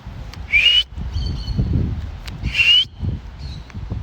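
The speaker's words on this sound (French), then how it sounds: "Mojito, elle est dans le coin, je vais la siffler" A person gives two short, clear rising whistles, a couple of seconds apart, to call a free-flying pet bird named Mojito, with faint softer whistles between them over low outdoor rumble.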